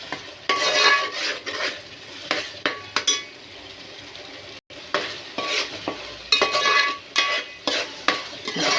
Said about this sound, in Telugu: ఆ పేస్ట్ కూడా వేసి బాగా ఫ్రై చేయాలి.